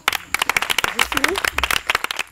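Clapping from the audience at a Miss OD'AS pageant, a run of sharp, fairly close handclaps at an irregular rhythm, with a voice sounding briefly over it in the middle.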